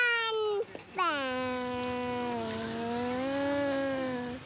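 Young child imitating a car engine with the voice, a short sustained vocal tone that breaks off, then a longer steady humming drone with a slight wavering pitch, fairly close.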